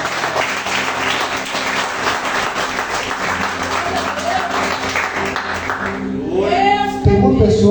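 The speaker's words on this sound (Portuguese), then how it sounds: "Exalta o Senhor com as palmas." A church congregation claps hands in praise, a dense crowd applause that continues steadily for several seconds before thinning out, while a voice carries on over it near the end.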